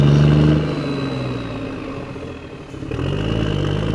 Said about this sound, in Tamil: திருப்பி டிராஃபிக் ஜாம் ஸ்டார்ட் ஆயிடுச்சு.